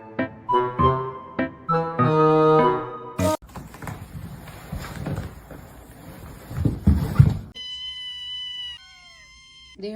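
A house cat meows several times in quick succession at close range. A stretch of rustling, scuffling noise follows, then thin high squeaky tones near the end.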